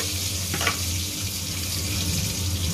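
Nigella seeds tempering in hot oil left in a pan after vegetables were fried, giving a steady, close sizzling hiss throughout with a faint clatter just past midway.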